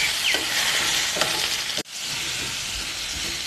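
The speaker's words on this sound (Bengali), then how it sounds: "নাড়িয়ে চাড়িয়ে 2 মিনিট মতন ভেজে নেব" Vegetables stirred and frying in a pan with chili powder and sugar for a mixed-vegetable shukto, a steady close sizzle with scraping stir strokes, briefly cut off near the middle before resuming.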